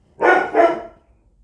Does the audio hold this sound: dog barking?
yes